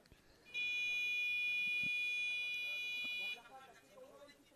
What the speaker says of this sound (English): That's just the buzzer to inform them they're all 4 fouls.